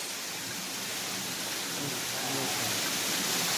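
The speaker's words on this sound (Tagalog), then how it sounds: "This is the waterfalls in Bislig, Surigao del Sur. It's Pinoy An Falls." Pinoy An Falls in Bislig, Surigao del Sur, produces a steady, broad rushing roar of falling water that fills the scene at an even level throughout.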